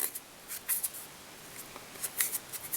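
Scissors snip through olive craft fur at a fly-tying bench, a few quick, crisp close-up cuts spaced irregularly with soft rustling between them.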